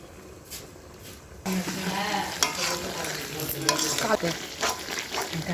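Spicy duck meat cooks over a clay stove on a rooftop, loud stirring scrapes and sizzling starting abruptly and continuing with rhythmic clanks, a voice speaking briefly underneath.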